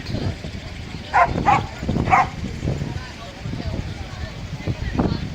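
A dog barks and yips a few times outdoors on a sunny day, short bursts near the start and middle, with people talking over a busy background.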